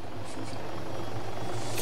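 Helicopter rotor and engine drone inside an Arma 3 Altis Life game session, a steady low throbbing hum filling the whole moment with airy high noise on top, no voices.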